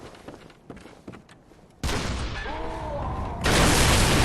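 Cannon fire in the video game Bloodborne: a loud blast kicks in abruptly, followed by a sustained roar and a second heavy burst, all after a quieter stretch of faint thuds.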